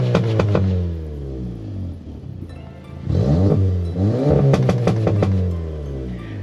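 A stage 2 tuned B9.5 Audi S4 engine revving loudly and close, with two rising and falling revs separated by a dip to idle and popping crackles on the overrun.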